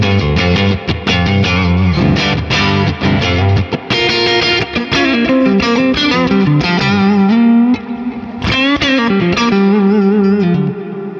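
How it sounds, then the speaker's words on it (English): A Music Man electric guitar is played on its neck humbucker with compression and effects, giving bright, sustained distorted riffs and chords that ring loudly and continuously for several seconds. "So you can still riff on the neck humbucker then, can't you, as well?"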